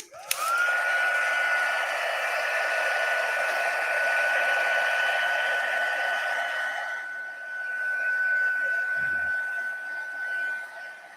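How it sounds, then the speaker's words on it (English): A heat gun drying paper on a handmade card blows a loud, steady whooshing roar with a constant high whine, starting abruptly and running nearly throughout with a slight change midway, close and continuous, no talk. "I'm going to give this a quick hit with the heat gun."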